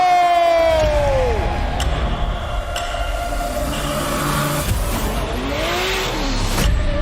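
A Formula Drift car slides sideways on the Long Beach street course, its engine wailing and sweeping in pitch against tire squeal and a roaring crowd, loud and continuous throughout.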